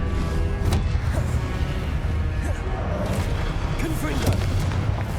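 Continuous deep booming blasts from Confringo blasting spells in Hogwarts Legacy, a heavy low rumble with repeated crashing impacts throughout, mixed with in-game spell cries and voices.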